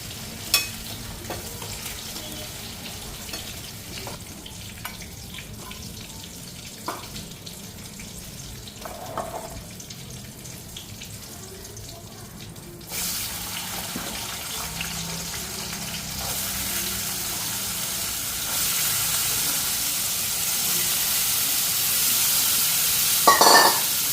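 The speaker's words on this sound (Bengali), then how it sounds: "এদিকে ফুলকপি ভাজাগুলি উঠাইয়া নিলাম এখন আলুটা বসানো" Potatoes go into a pan where cauliflower was just fried; light clinks and quiet handling come first, then a strong sizzle rises midway and grows louder and denser toward the end.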